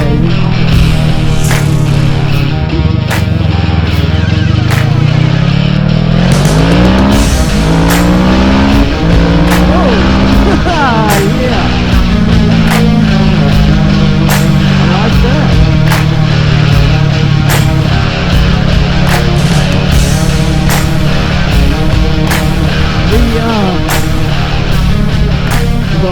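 A Kawasaki Z650 motorcycle fitted with a Rapid Bike ECU rides off on its first run, its engine loud and close as it revs up through rising gears, with a few shouted whoops over it.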